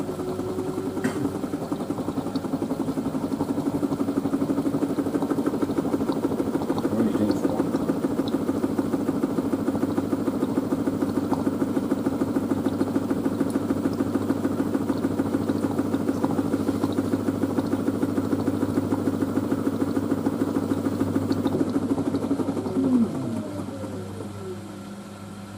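An LG DirectDrive F1496AD front-loading washing machine on its spin cycle gives a steady, close motor drone and drum hum that holds level for about twenty seconds, then winds down near the end, with no talking.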